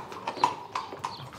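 Horse hooves clip-clop on hard ground at an Andalusian equestrian show, a quick uneven string of sharp knocks with several footfalls, fairly close and with no talking.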